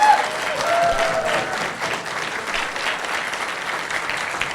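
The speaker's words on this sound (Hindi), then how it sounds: "तो सबसे पहले विजय बीपी साहब के लिए जोरदार तालियां बजाइए आप।" Loud, continuous applause from an audience at a seminar session, honouring Vijay BP, a dense roomful of clapping that holds steady and dips slightly midway.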